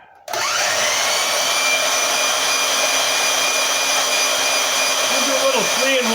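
A Harbor Freight portable band saw runs through metal as a loud, steady whining buzz. It starts abruptly after a brief quiet moment and holds constant to the end.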